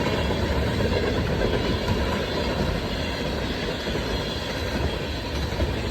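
A train rolls past on the rails in a steady, loud, continuous roar of wheels and cars, one of two trains passing close by with no break over the whole stretch.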